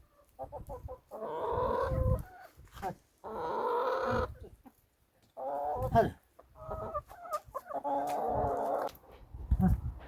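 Hens cluck in bursts close by, their calls interleaved with a person's voice urging them along.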